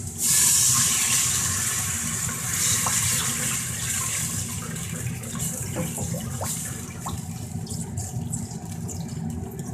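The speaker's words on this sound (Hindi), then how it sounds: "थोड़ा साथ ही पानी भी डाल देते हैं।" Water poured into a pan of cooking masala with garlic, a steady rushing, hissing flow that runs continuously, loud at first and then settling, with no talking.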